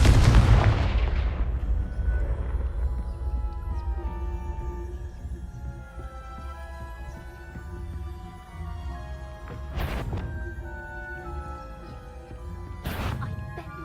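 A Confringo blasting spell explodes in Hogwarts Legacy on PC, one loud booming blast that rings out and decays over several seconds, followed later by two sharper impacts amid a soft game music bed.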